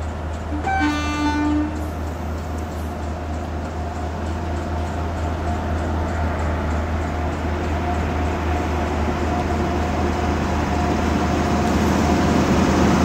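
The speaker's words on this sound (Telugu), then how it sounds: "హార్న్ వేసుకొని వచ్చేస్తుంది అది." A train in the Train Simulator Classic video game, pulling a Garib Rath Express, gives a short horn blast early on, then a steady heavy rumble of passing wagons with a low drone that lasts throughout.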